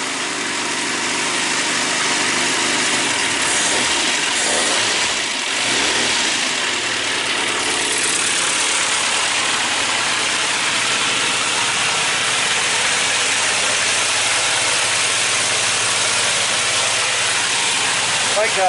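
A classic Mini's 1293 race engine, choke applied, runs continuously while warming up, close and loud with a rough, steady mechanical roar and slight rises in revs throughout.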